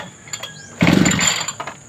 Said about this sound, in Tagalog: Mapaandar yung grass cutter.